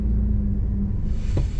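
A 2024 Toyota Prius AWD stuck during a wheel-slip test at full throttle gives a steady, loud low rumble of drivetrain and slipping tires, with a brief sharper burst near the end.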